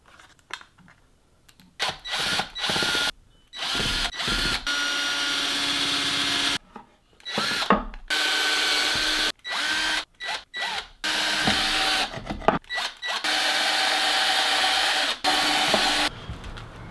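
A power drill grinds into a piece of wood for a guitar build in repeated bursts, starting and stopping with short pauses between, close and loud.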